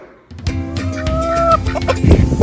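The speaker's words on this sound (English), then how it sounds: "There's the ducks." Fowl call loudly and close in a garden, ducks giving a series of honking, clucking notes over about two seconds with some background rustle and no talking.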